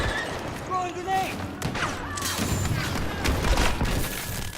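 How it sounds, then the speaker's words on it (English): Grenade blast in the Star Wars Battlefront 2 video game, a dull boom amid busy battlefield noise with scattered gunfire and voices talking over it. "Throwing grenade!"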